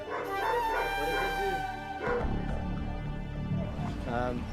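Confiscated dogs bark and yip in bursts with some whimpering, close and fairly loud, while people talk in the background.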